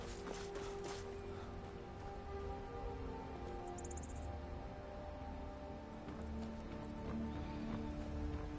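A horse plods along in rainy weather in the video game Skyrim, with soft repeated clip-clop hoofbeats and an occasional whinny over a steady patter of rain and low ambient music, no talking.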